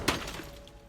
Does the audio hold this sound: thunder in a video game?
no